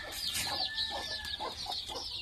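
A free-range hen clucks in a quick run of short, soft notes near her chicks, with chirpy calls from other birds mixed in nearby.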